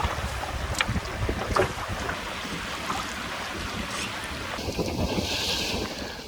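Steady wind roaring over open water on a small-dinghy sailing and camping trip, buffeting the microphone continuously with occasional stronger gusts and no voices.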